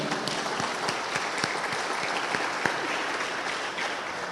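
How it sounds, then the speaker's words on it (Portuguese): A church congregation applauds in praise during a youth service, a steady wash of many hands clapping that fills the room from start to finish at moderate volume, with no voices standing out. "Você pode aplaudir a Jesus pela vida do Renan?"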